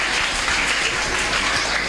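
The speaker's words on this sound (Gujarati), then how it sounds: "એક વખત જોરદાર તાળીઓથી આપણે શ્રમણજીનો આભાર માનીએ" Loud, dense applause from an audience at a school dedication ceremony fills the whole stretch, an unbroken roar of many hands clapping at once.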